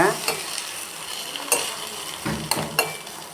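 Egg omelette sizzles in hot oil in a pan, with a steady frying hiss punctuated by several sharp scrapes and clanks of a spatula as it is flipped.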